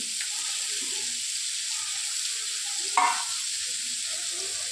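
Sliced bitter gourd is tipped into tomatoes cooking in a hot pan, with a continuous soft sizzle throughout and a brief clatter partway through.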